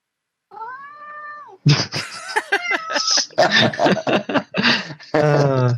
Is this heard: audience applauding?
no